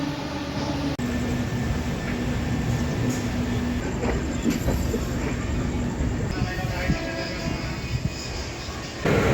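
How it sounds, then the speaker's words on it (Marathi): Steady rumble of the 22927 Lokshakti Express departing Bandra Terminus, Mumbai, rolling along the tracks, continuous and fairly loud throughout, with faint voices mixed into the background. "आता आपली ट्रेन तर निघाली"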